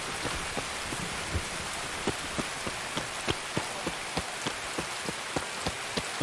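Rain pours steadily in the video game Escape from Tarkov, a dense, even hiss with sharp individual drops ticking at a regular pace throughout, and no voices over it.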